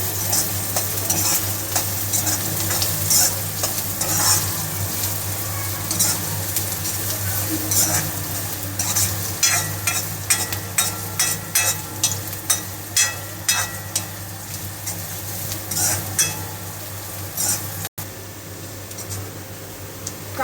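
Chopped onion frying in a pan until brown for a village-style pithla, a steady loud sizzle with repeated stirring scrapes and clinks running throughout, close up and without talk.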